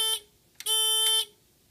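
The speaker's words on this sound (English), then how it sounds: "I think I should be able to silence this buzzer." A fire alarm keypad buzzer on an Ansul AutoPulse 2000 halon system panel sounds two loud, steady electronic tones, a short one and then a longer one after a brief gap, before cutting off into near silence.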